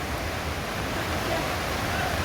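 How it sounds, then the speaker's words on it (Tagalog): Swollen creek in North Caloocan during Typhoon Carina, floodwater rushing in a strong, steady roar close by, a constant broadband wash with faint wind. "Ang lakas na ng agos ng tubig."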